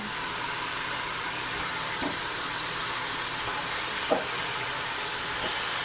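Beef hits a hot pan with tomatoes for a curry and fries in a continuous, loud sizzle, broken by a few faint clinks.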